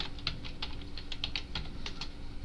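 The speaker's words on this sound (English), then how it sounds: "type in the password" A password is typed on a computer keyboard in a quiet room, a quick uneven patter of soft key clicks with no talk.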